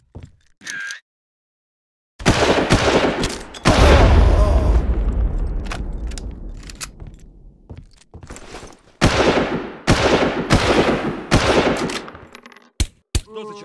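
In the Far Cry Pandemie mod game, a heavy grenade blast booms and rumbles away, followed by repeated loud bursts of close gunfire separated by short gaps.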